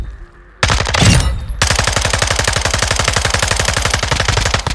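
FSS Hurricane submachine gun fire in the video game Modern Warfare 2, a loud close burst followed by a long sustained rapid automatic stream of shots at an even fast rhythm.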